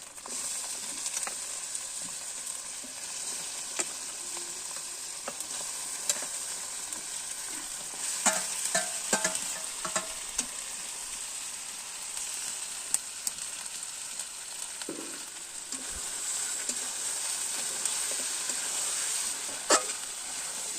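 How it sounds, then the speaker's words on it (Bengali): Meat frying in a pan as it is stirred, a steady broad sizzle running throughout with scattered scraping and clinking of the spoon against the pan, moderately loud and close, with no talk. "এবার মাংসগুলো ছেড়ে দিলাম।"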